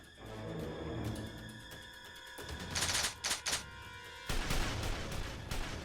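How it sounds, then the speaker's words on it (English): Bursts of rapid video game gunfire from a volley of soldiers crackle in short clusters over a busy, layered background, loud and sharp with brief pauses between volleys. "A volley of gunfire erupted from the rest of the Imperial soldiers nearby."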